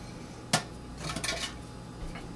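Korean red pepper flakes mixed into green beans in a bowl for kimchi: one sharp clink of a utensil against the bowl, then a few soft scraping and stirring sounds, quiet and close.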